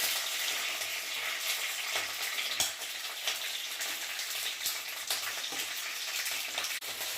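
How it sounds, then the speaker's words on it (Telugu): Cut green chillies frying in oil in a pan on the stove for Hyderabad-style mirchi ka salan: a dense, continuous crackling sizzle at moderate level, with small pops and an occasional stir. "వీటిని ఇట్లా నూనెలో వేయించుకోవాలి."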